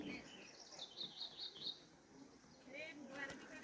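Small birds chirp in quick repeated phrases close by at a hillside village house, with softer twittering afterward and a low voice murmuring underneath.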